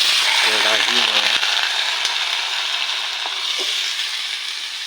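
Potatoes and onions sizzle loudly and steadily in a hot kadhai, a dense hiss with faint crackles that eases slightly toward the end. A voice speaks briefly near the start.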